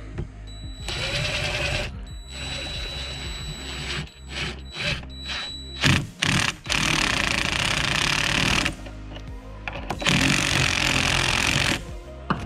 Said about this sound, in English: let's get this lag bolt in